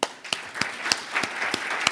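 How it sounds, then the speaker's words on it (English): Applause from an audience at a Hong Kong construction-industry award launch and signing ceremony, thanking panel members: a steady wash of clapping with a few sharp, louder claps standing out at moderate distance. "Let's give them a big hand."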